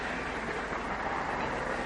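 A moving train rumbles as a sound effect in a 1940s radio drama, a steady, dense roar of wheels and carriage noise filling the whole stretch without pause or speech.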